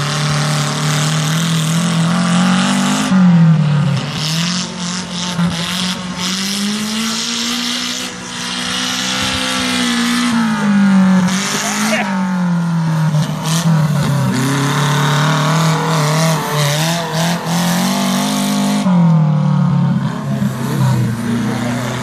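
Single-axle tractor racing vehicles at Tegerfelden, with two or more machines starting together: loud, close engine drones that rise and fall continuously in pitch as they rev and race, with no pauses.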